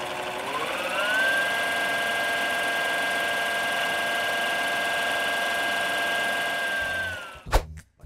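A Timemore Sculptor 078 electric coffee grinder runs with a steady high motor whine that rises in pitch as it spins up, holds evenly and then winds down, followed by a couple of knocks near the end.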